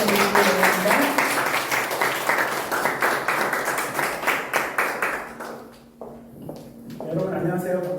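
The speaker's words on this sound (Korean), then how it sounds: "나오실 때 큰 박수로 맞아주시기를 바랍니다." A church youth group audience applauds to welcome a missionary speaker: steady crowd clapping for about five seconds that fades out, followed by someone speaking.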